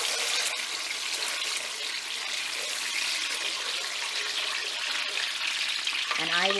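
Sauce being stirred in a pan on the stove for eggplant parmigiana gives a steady, continuous sizzle and wet scraping that runs at an even level throughout, with a brief extra clatter near the end.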